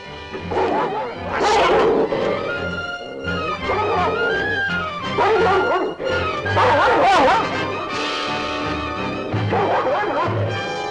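A dog barks and yips repeatedly in loud, close bursts, with whimpering between them, set in a scene from an old television western with some voices mixed in.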